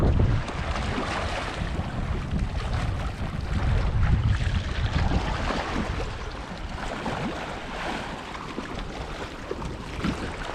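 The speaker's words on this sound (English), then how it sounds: "This is the ocean." Wind and surf on the Caspian Sea shore roar as a steady, dense wash, with loud buffeting gusts against the microphone and waves breaking beneath, continuous and close with no voices.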